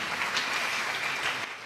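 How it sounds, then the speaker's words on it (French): A church congregation applauding at a pastor's service, a dense, steady wash of clapping from many hands. "Acclamons très fort."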